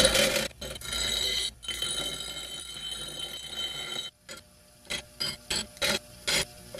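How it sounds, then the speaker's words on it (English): Angle grinder working a steel part to carve a dip for a PTO shaft, a loud sustained abrasive whine for about four seconds, then a string of short, separate grinding bursts. "I'm just gonna try to grind it out"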